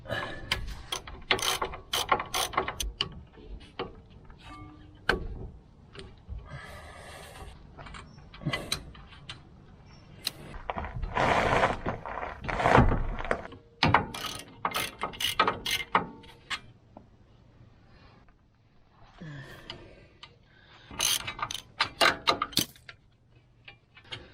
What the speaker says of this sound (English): I'll use a CV socket on there just to try and get a bit of angle on it